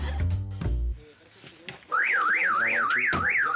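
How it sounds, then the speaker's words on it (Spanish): A car alarm with a cut-off immobiliser fitted goes off loud and close in a repeating wavering siren warble, after a short stretch of talk and a passing noise at the start. "¿Qué le pasa a la alarma?"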